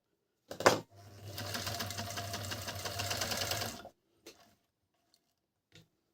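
A four-thread overlock sewing machine runs steadily for about three seconds with a dense, even whir, framed by a few short clicks before and after.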